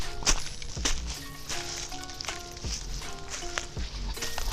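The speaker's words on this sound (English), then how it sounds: "Just getting some ASMR footsteps in this lush forest that we're walking through." Footsteps walking through a lush forest, irregular crunching steps spaced about half a second to a second apart, close and moderately loud among faint background ambience.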